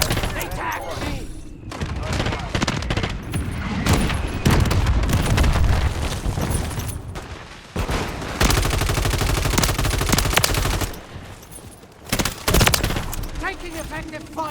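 Dense, loud gunfire in the shooter game Modern Warfare 3, with rapid automatic bursts, booming impacts and explosions filling the whole stretch almost without pause, while voices talk over the battle.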